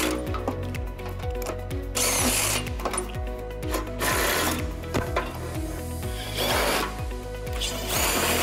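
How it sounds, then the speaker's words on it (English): A power tool spins out bumper beam bolts on a 2021-2024 Jeep Grand Cherokee L during a trailer hitch installation, loud close whirring with rhythmic ratcheting pulses and brief louder bursts as each bolt loosens. "Now we're going to use a power tool to speed things up."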